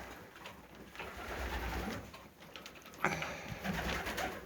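Pigeons coo softly in the background amid a low, steady outdoor rumble, with a brief louder rustle partway through.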